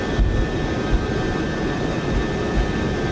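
A Boeing 707 on its takeoff roll in Microsoft Flight Simulator 2024, a loud, steady jet engine roar with a broad rushing hiss and a low rumble that holds even throughout, with no talk.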